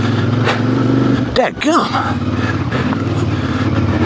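A 2026 CF Moto IBEX 450 motorcycle engine chugs at low revs off-road, a steady loud drone throughout, with someone speaking briefly over it midway.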